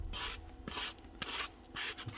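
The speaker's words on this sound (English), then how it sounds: "Just like a sanding block or something, just to polish the actual end of it." Four rhythmic bursts of abrasive rubbing, a sanding block scraping back and forth over the metal shaft end of a DeWalt DCS369 reciprocating saw, close up with short pauses between strokes.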